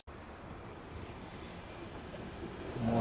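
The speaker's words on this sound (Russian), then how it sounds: "Ждем трамвай." A tram on Milan's number 1 line approaches a stop: a low, steady rumble of rolling wheels grows gradually louder toward the end over quiet street ambience, with no voices.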